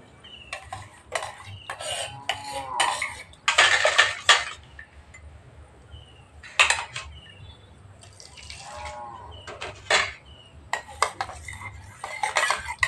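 Milk and sour yogurt are beaten together in a bowl for sweet curd. Utensil strikes on the bowl come as irregular, close bursts of clinking and scraping, with quiet pauses between them.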